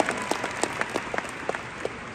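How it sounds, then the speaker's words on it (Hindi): Applause from an audience at a Forever Living success day event, honouring Krishna: a moderate spread of separate claps, fairly close and even, with no voices over it. "एक बार कृष्णा के लिए दोबारा ताली मार दो।"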